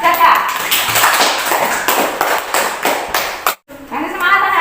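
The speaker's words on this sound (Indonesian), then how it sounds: "tepuk tangan buat Caca" Children clap their hands in a classroom lesson, a brisk run of sharp, close claps that stops briefly near the end, with talking going on over and around the clapping.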